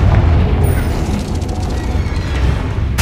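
In the Hogwarts Legacy video game, the Expelliarmus spell is cast amid loud, dense booming blasts and rumbling combat effects, with a burst-like crackle near the end.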